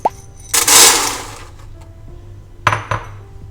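Dry popcorn corn kernels, with no oil, pour into a lined air fryer basket in a rattling burst lasting about a second, followed later by a couple of sharp clinks, close up.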